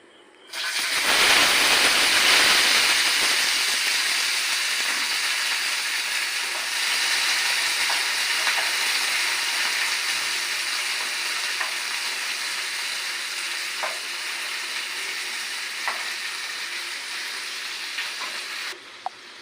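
Long beans sizzle and crackle steadily in hot oil in a pan, a loud, continuous frying hiss with occasional small pops, fading slightly toward the end.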